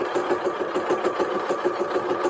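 A sewing machine stitches binding onto a bunched-up quilt, running at a steady, fast, even rhythm of needle strokes that stays close and continuous throughout with no talking.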